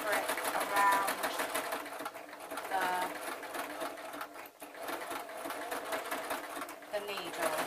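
Sewing machine stitching a running stitch through fabric, a fast continuous whirring hum with rapid rhythmic needle clatter, close and fairly loud, with a brief slowdown midway before it resumes.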